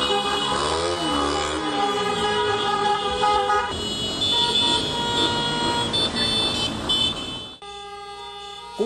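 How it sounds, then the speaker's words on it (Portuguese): Car horns and sirens from a motorcade protest of car and motorcycle drivers in Januária, Minas Gerais, blaring in layered, overlapping tones that continue steadily before cutting off near the end. "Condutores de carros e motos, mesmo em pequeno número, conseguiram fazer barulho."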